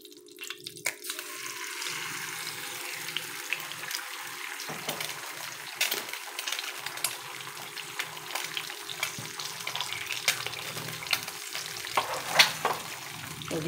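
An egg fries in a hot pan, the third of a run of breakfast eggs, with a steady close crackling sizzle that lasts throughout and carries occasional scraping stir sounds, with no talking.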